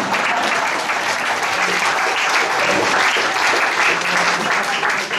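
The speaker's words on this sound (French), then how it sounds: "tout le monde applaudit" Audience clapping steadily throughout at a family celebration, a dense, even wash of many hands without pause.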